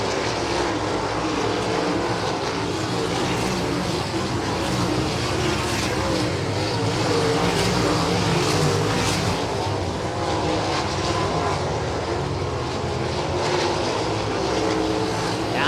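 Race cars roar around Winston Speedway during a Great Lakes Super Sprints heat, with the top three cars diving to the bottom of the track; a loud, continuous engine drone holds steady for the whole stretch, close and dense.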